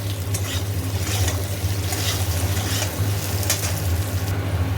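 Fish and lentil dumplings (bori) sizzling in a pan, a steady close crackling fry with a low hum underneath, continuous throughout with no voices.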